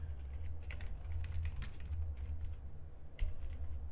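Quiet, close typing on a computer keyboard while coding in Laravel: irregular bursts of soft key clicks, a faint low hum underneath, and a slightly sharper tap near the end.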